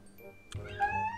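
A cat gives a single drawn-out, rising meow close to the listener, with a voice speaking faintly under it.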